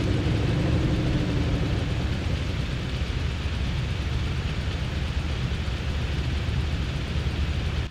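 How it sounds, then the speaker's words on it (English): PZL-104 Wilga bush plane engine just after starting, a loud rough grumbling idle that holds steady and close for the whole stretch with no talking over it. "That engine really grumbles when she starts."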